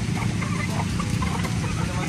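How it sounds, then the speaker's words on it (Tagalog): Chickens cluck continuously while being fed, over a dense, noisy outdoor background, loud and close, with no clear pauses. "Si Papa lang po ay nagpapakain po ng mga manok."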